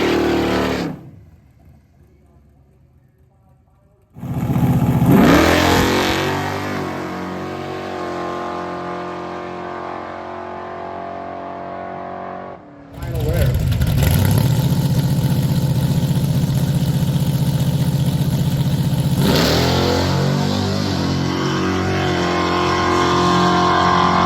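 A Barracuda drag car with a 512 engine makes a nitrous pass, a loud engine that drops to near silence, then surges back up in a rising roar before a second loud burst holds steady to the end.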